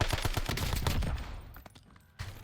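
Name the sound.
MXR gun firing in a video game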